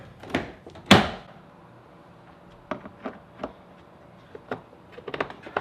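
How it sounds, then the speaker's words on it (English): An Infiniti FX car door clicks and thunks open, followed by a few scattered light clicks and knocks from handling the door panel, close by. "I'm going to open the door a little bit here"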